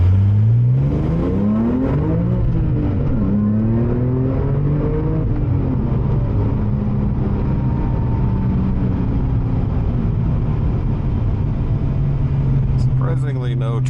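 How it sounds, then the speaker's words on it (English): A Porsche 997 accelerates hard in first gear, its engine rising through a deep, loud rev from inside the car with a constant road rumble underneath. "Let's get the first gear roll on, see what it does here."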